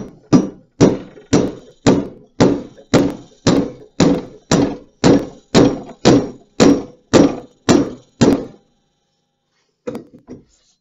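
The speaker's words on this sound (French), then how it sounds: "j'aimerais avoir un marteau." A hammer drives a wedge into a maple axe handle with about fifteen sharp, evenly spaced blows, loud and close, then a pause and a couple of lighter final taps.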